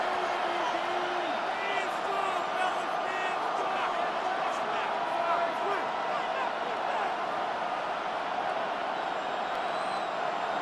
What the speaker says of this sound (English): We can feel this crowd all the way up here in the press box, Mike.